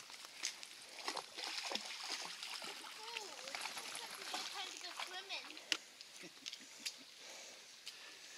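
A dog splashes and plays in a stream along the Butterfield Hiking Trail, with intermittent close splashes and sloshing water under talking.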